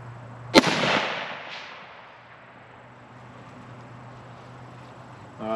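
A single sharp, loud crack of a Ruger SFAR rifle fired outdoors at a target about 100 yards away, followed by a long fading echo and faint insect background.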